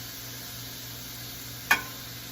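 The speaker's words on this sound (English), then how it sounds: "Now I'm going to add a pound of ground beef that has been crumbled. And we're going to mix that in with our vegetables." Crumbled ground beef frying with vegetables in a pan gives a steady, soft sizzling hiss throughout, broken once by a brief clink of a utensil.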